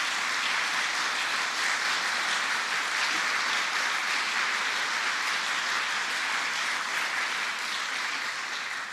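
Applause from an audience at a governor's briefing at One World Trade Center in New York, a steady, even wash of clapping that holds for several seconds and fades slightly at the end, with no talking over it.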